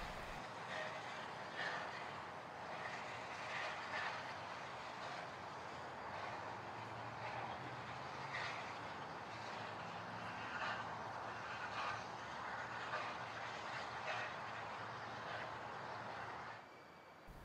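The Fillmore & Western Christmas train rolling along its track from Ventura County farmland toward town in 2017, a steady, broad rumble and rushing roar that holds for the whole stretch, then drops off at the end.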